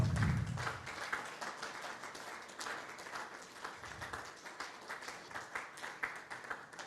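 Audience at a CEO/HR forum applauding after a presentation, scattered clapping of moderate loudness that thins slightly over the seconds, with a low voice briefly at the start.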